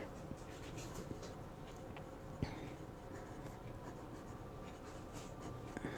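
Scratchy strokes of a Lamy Next fountain pen with a 1.1 stub nib and violet cartridge moving across paper, soft, close and continuous, with a few faint taps.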